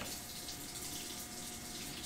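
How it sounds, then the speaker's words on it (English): Water runs from a kitchen tap while warming up for cooking, a steady close rushing stream that fills the whole stretch alone without any voices. "Trying to get some warm water."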